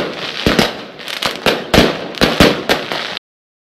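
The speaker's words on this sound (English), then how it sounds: "Was just pushed into those fireworks!" Fireworks going off at an Independence Day celebration, a rapid string of sharp loud bangs and crackling bursts in irregular succession, close and punchy, ending abruptly.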